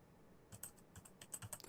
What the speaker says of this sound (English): The only sound in the room was of Dao's fingers on the keys.